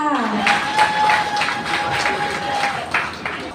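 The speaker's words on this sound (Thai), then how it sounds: "ขอเสียงปรบมือกับเจ้าสาวด้วยค่ะ" Wedding guests at a Thai wedding applauding the bride: dense, steady clapping from a crowd, moderately loud, under and after a voice speaking.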